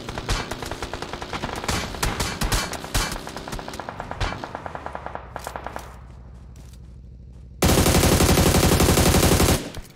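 Rapid bursts of automatic gunfire in PUBG Mobile, dense and loud, shifting into a sustained harsh roar of continuous fire near the end.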